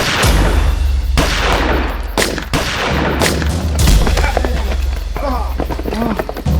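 Dramatized police shootout in a crime drama, with repeated loud gunshot bursts cracking close by amid shouting voices and a dense, noisy action soundtrack.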